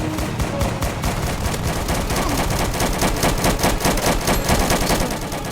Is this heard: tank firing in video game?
yes